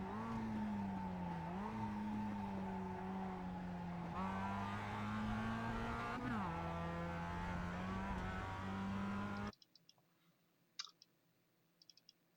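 A Mazda MX-5 race car engine in iRacing at Laguna Seca drones loudly and climbs in pitch through several gear shifts, then cuts off abruptly, leaving near silence with a few faint clicks.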